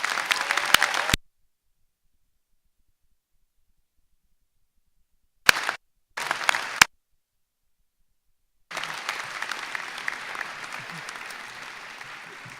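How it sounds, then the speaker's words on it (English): Applause from an auditorium audience for the graduates at a winter commencement ceremony, heard in short bursts with gaps of silence between, then a sustained steady clapping at the end. "I'd just like to invite the entire auditorium, one more round of applause for all of our graduates."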